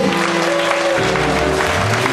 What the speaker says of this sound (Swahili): Pigia Mungu makofi.